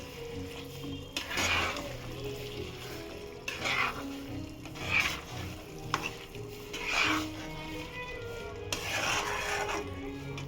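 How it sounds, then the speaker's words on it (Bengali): Raw potatoes stir-fried into a mutton curry (kosha), a spatula scraping and stirring through oil and spices in bursts over a steady low sizzle, fairly close, with no talk. "কাঁচাই এর মধ্যে দিয়ে কষবো, যাতে তেল মশলা ভালোভাবে ঢুকে যায়"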